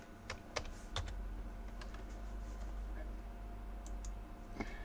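A computer keyboard is typed on in a few scattered light keystrokes and clicks, faint and close over a steady low background hum.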